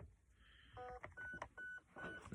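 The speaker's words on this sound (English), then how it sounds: "That beeping there is just the gun turning on." An airsoft gun powering on gives a quick sequence of short electronic beeps, several distinct tones in about two seconds, close and fairly faint against a quiet background.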